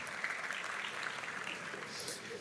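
An audience clapping at a teen church service, a brief burst of scattered applause heard at moderate distance, fairly quiet and continuous for a couple of seconds.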